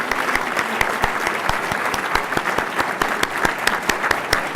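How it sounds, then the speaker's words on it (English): An audience in New York applauds Brazilian Finance Minister Henrique Meirelles with dense, sustained clapping that fills the room evenly from start to end. "I'd like a big round of applause for Minister Meirelles"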